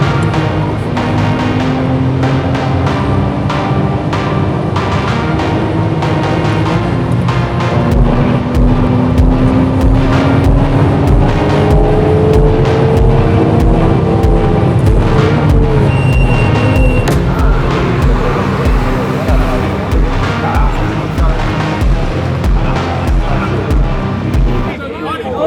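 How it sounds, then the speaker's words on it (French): Loud car engine revving hard while drifting with one wheel spinning, continuous rising and falling engine tones throughout with crowd noise and voices underneath. "Ça commence à drifter les gars. Oh là là, il n'y a qu'une roue qui patine."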